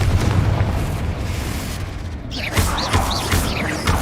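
A Confringo explosive spell goes off in Hogwarts Legacy with loud booming blasts and crackling bursts, set against a rumbling combat backdrop with spell whooshes at close range.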